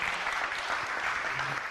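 Audience applause at a motivational talk, a steady, dense patter of many hands clapping at once, continuous and fairly close.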